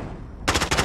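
Rapid automatic gunfire from a video game rattles out in loud, close bursts after a brief quiet stretch of low background hum.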